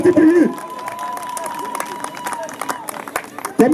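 A concert crowd claps and cheers briefly, scattered applause under voices, with French speech at the start and end.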